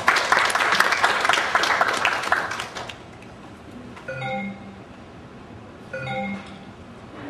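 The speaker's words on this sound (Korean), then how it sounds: "박수로 환영해 주십니다" An audience at a healthcare industry conference applauds to welcome a speaker, loud clapping for about three seconds that fades, leaving a few faint clinking chime tones.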